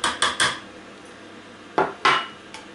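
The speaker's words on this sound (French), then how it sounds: "On replace le couvercle" A lid is set back on a Compact Cook Elite cooker after flour is added, three quick metallic clacks followed by a pause and then two more knocks, close and crisp.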